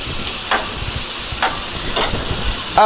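Ground beef sizzles in a hot pan with a steady hiss, broken by a few louder spits and scraping stirs, close by with no talking.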